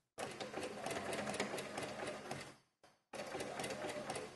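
A domestic sewing machine stitches a T-shirt seam in a fast, steady mechanical rattle, stopping briefly for a moment before running on again at the same close, loud pace.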